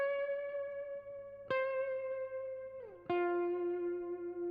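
Two sustained clean electric guitar notes or chords ring out through a Neural DSP Archetype Nolly amp plugin with a mid ambience tone, each struck sharply then decaying smoothly, with a pitch bend into the second note.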